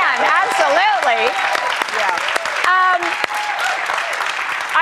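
Studio audience applause fills the room at a talk show, dense clapping with loud singing and cheering-like voices overlapping on top throughout.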